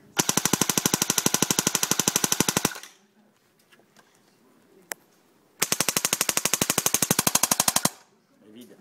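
A G36 rifle fires two long, sustained bursts of rapid automatic fire, loud and sharp. A quiet pause with a lone click separates the bursts.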